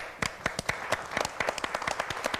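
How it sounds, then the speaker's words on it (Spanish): Scattered, sharp hand claps from a small studio audience applauding a band with saxophone, percussion and guitar, a quick irregular run of distinct claps, fairly close and moderately loud, with no talking. "Un aplauso."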